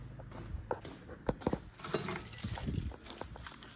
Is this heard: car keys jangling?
yes